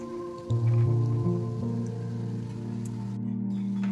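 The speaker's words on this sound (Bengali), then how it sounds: "গরম তেলে অল্প অল্প করে ছাড়তে থাকলাম। সোডা দেওয়ার জন্য বড়াগুলো কত সুন্দর ফোলা ফোলা হচ্ছে।" Bengali radish fritters made with a soda-raised batter are dropped a little at a time into hot oil, giving a continuous close sizzle with crackling, dripping pops and a faint hum underneath.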